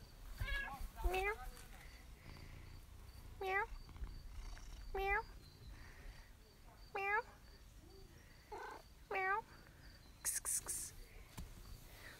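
A cat in a garden meows repeatedly, about six short rising-falling cries spaced a second or two apart, over faint insect chirping, with soft voices around it.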